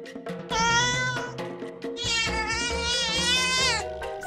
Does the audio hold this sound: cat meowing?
yes